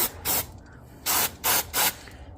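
Degreaser sprays into the engine bay of an Infiniti M45 in four short hissing bursts: a brief one, a pause, then three quicker blasts close to the nozzle, with quiet gaps between.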